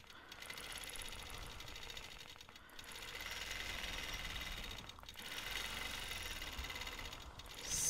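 A Gammill longarm quilting machine stitching a free-motion swirl line on a quilt gives a steady, fast mechanical whir with brief dips, running alone at moderate level.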